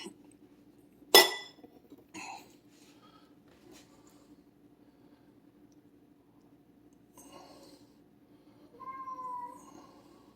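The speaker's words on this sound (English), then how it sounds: "That's the cat." A cat meows faintly a couple of times in a quiet room, after a sharp clink of glass near the start.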